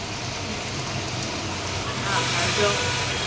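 Heavy monsoon rain pours down outside a home, water streaming everywhere; a steady, dense hiss of falling drops holds throughout and swells slightly toward the end, with voices faintly present.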